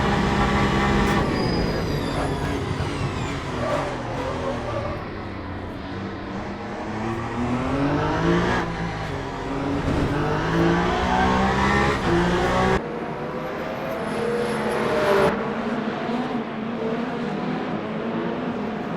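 A Peugeot prototype race car engine in Le Mans Ultimate at Bahrain, a loud continuous harmonic drone rising and falling through gear changes as it races, with a brief high whine near the end and no talk.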